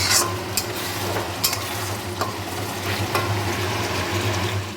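Prawn curry masala stir-fried in a pan, a steady close sizzle with repeated scrapes of a spoon through the thick paste, continuous for several seconds with no voices.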